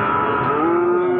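A brief, close moo from a PO or Limousin heifer calf at the Pasar Pon Jaken livestock market, loud and unbroken from start to finish.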